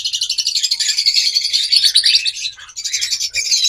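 Caged pet birds such as lovebirds chirp rapidly and continuously, a bright, loud, overlapping twittering close at hand that dips briefly before resuming, with no voices.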